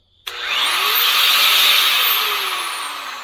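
An angle grinder with no wheel fitted, run from a Bluetti EB3A power station, spins up abruptly with a loud whining roar that rises in pitch, holds steady, then begins to wind down, heard up close and alone.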